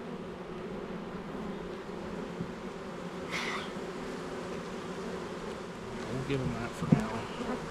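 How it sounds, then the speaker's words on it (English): Honey bees clustered on a wall buzz in a steady, close drone, with a few individual bees zipping past, while someone speaks briefly near the end. "some bees hanging on the wall over here"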